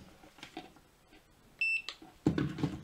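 A multimeter on continuity test gives a short steady electronic beep, probed on a pneumatic timer and contactor setup. The single tone sits among faint handling noises, followed by a louder clunk.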